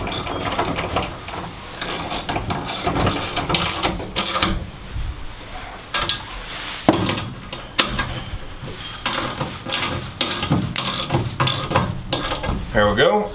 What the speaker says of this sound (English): So let's tighten these up here.